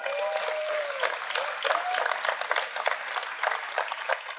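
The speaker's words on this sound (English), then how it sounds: "Give yourself a round of applause" A ribbon-cutting crowd gives steady, dense applause at a library commons celebration, clapping evenly throughout, with a faint voice briefly calling out at the start.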